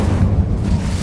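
Incendio fire spell in Hogwarts Legacy on PS5, a short, loud, low whooshing burst of fire rumbling evenly throughout.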